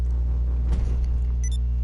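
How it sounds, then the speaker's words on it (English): A sports car engine in GTA 5 rumbles steadily at low pitch, swelling briefly midway, with a short electronic blip near the end; no talking. "I don't know how you can like the sound of this car"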